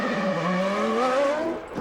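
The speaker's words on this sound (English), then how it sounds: "Schumacher obviously slowing for the pits." A 1997 Formula 1 car slows toward the pits, its engine note held high and droning, then dropping away near the end, loud and close with no voices.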